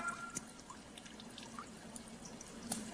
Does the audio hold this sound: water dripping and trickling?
yes